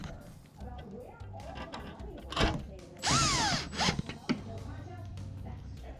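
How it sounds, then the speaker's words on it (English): A power drill drives screws into the bottom panel of a GE dishwasher: short whirring bursts of a motor ramping up and down, close by, as someone talks throughout. "Just install the two 1/4 screws that holds the bottom panel"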